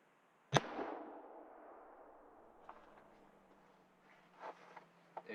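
A single sharp, loud shotgun blast from a Retay Masai Mara firing 1 5/8 oz number 4 lead shot shells outdoors at 28 degrees, ringing off quickly, followed by a few faint mechanical clicks.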